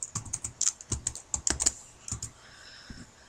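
Fingers type on a computer keyboard in irregular bursts of close, crisp key clicks, quickening and then thinning out toward the end, with no talking.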